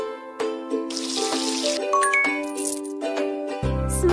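Sand being mixed with water while making a horseshoe in the kids' video game Horse Club 2: a bright, splashy water swish over light, tinkling game music.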